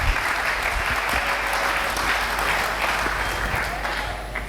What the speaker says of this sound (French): Je demande à tous les hommes d'acclamer à l'honneur de maman.